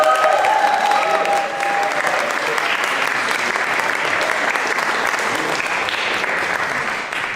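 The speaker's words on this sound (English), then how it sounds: "Can we give them one more round of applause" Sustained, dense applause from an audience closing out a talk at a symphonic music history event, a steady roar of clapping from start to finish with a few faint voices mixed in.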